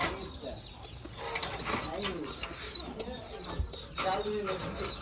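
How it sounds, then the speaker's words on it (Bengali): Old Khulna-breed pigeons, a master breeding pair, coo in repeated soft throaty phrases close by, with occasional wing rustles and faint background voices. "এগুলো অনেক বয়স কবুতরগুলো অনেক পুরোনো জেনারেশন"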